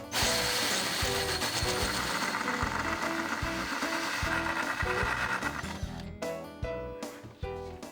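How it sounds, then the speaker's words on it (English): Mounting screws being driven into furniture with a power drill, a buzzing whir broken into several short bursts of fastening, close and loud. "Then drive in the mounting screws."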